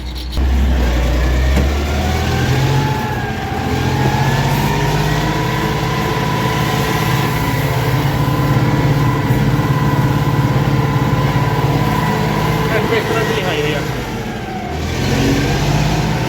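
A T-150-K tractor engine runs loud and close in second gear while pulling a disc harrow in a field, a steady low drone that rises briefly at the start and holds, with no talking.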